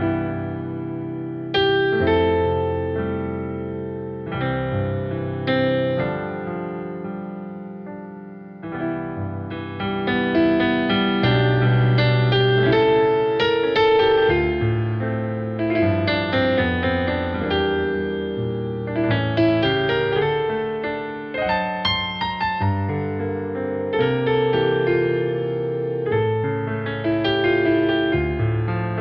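A Yamaha CLP775 digital piano playing its CFX grand piano voice, a continuous melodic passage with chords and bass notes, full and resonant, heard alone for about half a minute.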